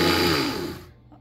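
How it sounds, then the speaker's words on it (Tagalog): An electric blender grinding dried moringa leaves whirs loudly, then winds down and cuts off near the end, leaving quiet. "So kailangan talaga may blender ka."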